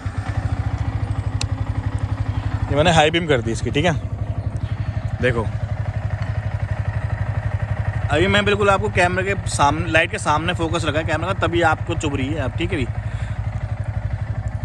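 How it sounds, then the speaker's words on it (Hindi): A Yamaha R15 v3 motorcycle engine idles steadily at night with a low, even rumble, while someone talks over it at intervals. "बाइक को ऑन करते हैं,"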